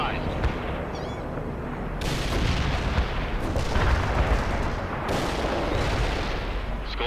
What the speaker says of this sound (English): We'll cover the target with phosphor.